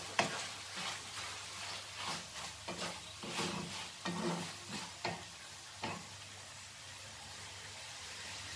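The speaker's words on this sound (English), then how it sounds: "Fry this nicely." Chopped vegetables with capsicum frying in a pan, a soft sizzle beneath the scrape and shuffle of a spatula stirring in uneven strokes that fade out toward the end, quiet and close with no voices.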